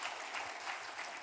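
A Korean church congregation gives a big round of applause for its Bible teachers and choir, many hands clapping in a dense, steady patter that holds evenly throughout.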